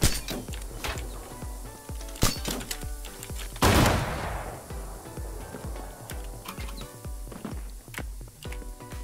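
Gunfire in The Culling, rapid rhythmic bursts of sharp shots repeating steadily over several seconds, with one heavier blast partway through and a busy mechanical clatter beneath.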